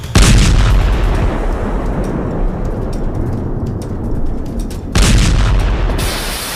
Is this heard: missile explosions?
yes